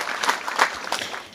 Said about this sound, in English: Let's clap hands for our future president.